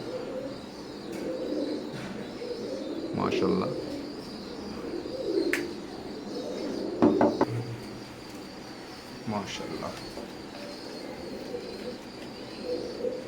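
Teddy pigeons from an Oman bloodline coo steadily in a low, rolling murmur, with wing flutters and scuffling bursts mixed in, while someone speaks briefly over them nearby.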